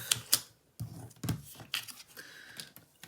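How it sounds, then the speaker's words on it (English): Paper trimmer blade sliding down to cut cardstock for a card, a series of short scraping clicks and sliding swipes at irregular intervals, quiet and close. "So I'm just going to bring my blade down this way, and we're going to cut"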